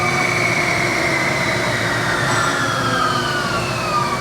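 A Mazak lathe spindle with a fault runs at high speed, up to 1600 RPM. It gives a loud, steady mechanical hum and whine with rising and falling tonal pitches and no pauses.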